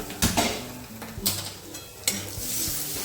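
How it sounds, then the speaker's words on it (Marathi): Chopped onion with ginger sizzling in oil in a pan for cucumber sabji, stirred with a spoon in several scraping strokes over a continuous soft frying hiss. "कांदा टाकला त्यामध्ये कांदा चांगला परतून घ्यायचा"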